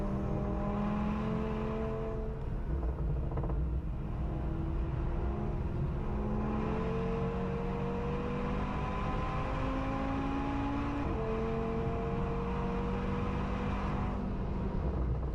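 Small Audi with a big engine revving hard on a Nürburgring lap, a steady loud engine drone whose pitch sweeps up and down through repeated gear changes while overtaking, with no talk.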